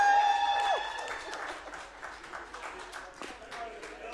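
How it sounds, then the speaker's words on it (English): Board meeting audience on their feet applauding and cheering for the wrestling team, steady clapping filling the room, with a whistle-like tone at the start and voices mixed into the crowd noise. "Let's stand on our feet and cheer up for Victoria Brown and the wrestling team."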